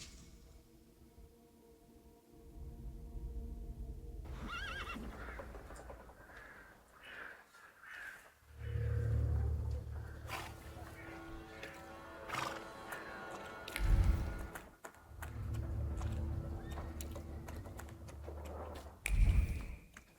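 Horse whinnies and hoof clip-clops from the video game The Thaumaturge, several loud neighs rising over a steady ambient game backdrop with bird caws mixed in.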